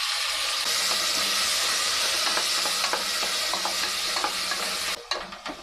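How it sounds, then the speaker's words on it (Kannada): Chopped tomatoes dropped into onions frying in hot oil in a pan, a loud continuous sizzle with stirring scrapes throughout, the hiss cutting out near the end into a few clatters, no talk. "2-3 ಟೊಮೆಟೊ ಸಣ್ಣಕ್ಕೆ ಹಚ್ಚಿಟ್ಕೊಂಡು ಅದನ್ನು ಇದಕ್ಕೆ ಹಾಕ್ಕೊಳ್ತಾ ಇದ್ದೀನಿ"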